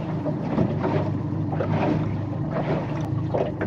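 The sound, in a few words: boat engine idling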